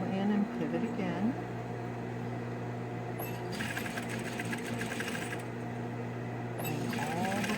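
A sewing machine stitches a fabric face mask in a steady, close mechanical whirr, with short stops and restarts and a faster burst in the middle.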